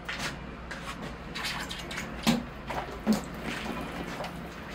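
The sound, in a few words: watering a Serissa bonsai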